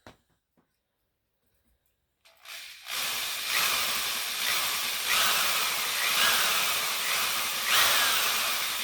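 A drill countersinks a hole in a rear mount, starting after a couple of seconds of near silence and then grinding and hissing steadily and loudly, with slight rhythmic surges as the bit cuts.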